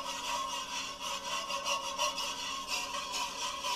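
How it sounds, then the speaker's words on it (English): A whisk scrapes rapidly through thickening saffron sauce in a pan, a steady rhythmic metallic scraping that runs continuously and close up, with no talking. "You've got to continue to whisk."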